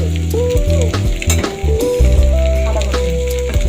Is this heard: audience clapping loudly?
no